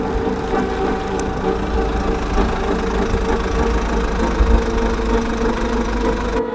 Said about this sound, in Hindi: और इधर ग्रैंडपा अपनी तेज रफ्तार से बाइक चला रहे थे